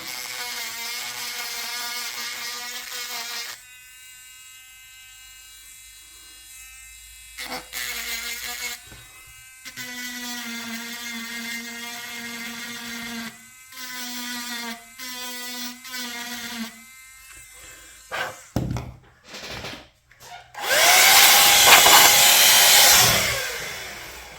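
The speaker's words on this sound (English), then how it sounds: "So we've got a wee cordless grinding tool here. I'll just do a wee bit at the top." A small cordless rotary grinding tool works on the USB charging port of a BT baby monitor, a close high-pitched motor whine starting and stopping in short runs, ending in a harsher burst of grinding, with no talking.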